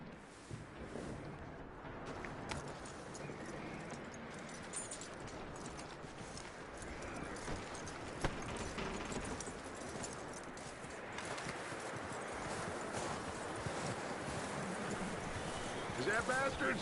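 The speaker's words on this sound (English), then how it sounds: "That looks like a decent horse." Horse hooves clip-clop steadily in a PS4 video game, a continuous rhythmic trot over a wide bed of wind and ambient game noise, with voices talking over it.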